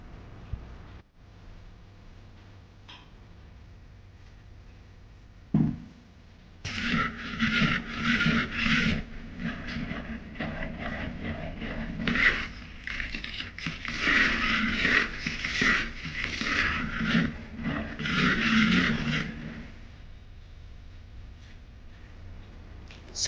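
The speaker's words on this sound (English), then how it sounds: "Scrape the mixing bowl with a silicone spatula to ensure all the flour has incorporated evenly with the batter." A silicone spatula scrapes the sides of a mixing bowl of smooth castella batter made with flour and milk, giving steady soft rubbing strokes that start after a quiet opening and continue close up.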